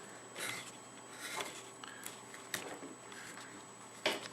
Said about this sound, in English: I'll use just a gouge in order to get most of that done.